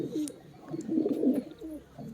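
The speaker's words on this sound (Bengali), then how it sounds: "সব কবুতরগুলো সব একসঙ্গে সবাই জোড়া জোড়া খাঁচার মধ্যে আছে" Pigeons kept in pairs in a cage give soft, throaty coos in overlapping bursts, close and fairly quiet, with a few faint rustles in between.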